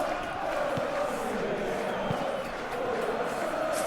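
A stadium crowd in the PES 2021 football video game, with a steady, loud roar of supporters filling the background throughout, no distinct peaks, with faint commentary-like murmurs.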